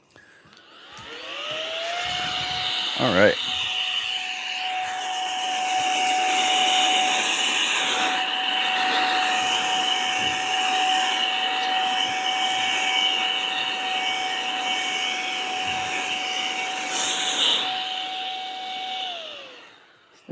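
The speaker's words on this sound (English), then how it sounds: "it's a pretty nice little blower for little stuff" A small electric blower bought online runs in a workshop with a steady, loud whine and rushing air, spinning up and holding for about seventeen seconds before winding down, with a brief spoken word near the start.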